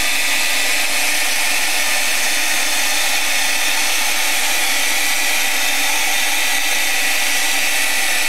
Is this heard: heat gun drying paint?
yes